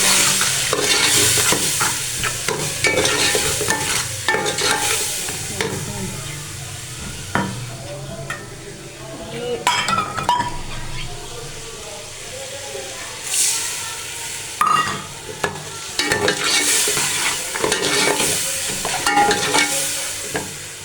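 Masala fries with onions in a pan as it is stirred, producing continuous loud close sizzling and hissing with rhythmic scraping strokes, steady through the whole stretch.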